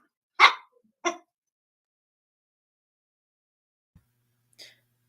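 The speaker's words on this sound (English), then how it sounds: "That dog's pissed off again" A dog barks twice in quick succession, short sharp barks, then a faint scuffle and one soft trailing yelp amid otherwise quiet surroundings.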